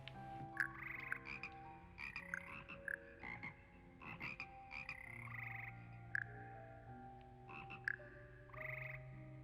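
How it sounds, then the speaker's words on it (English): Frog Choir frogs from Hogwarts Legacy croak in repeated bursts over a sustained low tone, the calls loud and close, stacked in uneven rhythm with no speech. "You're just making normal frog sounds."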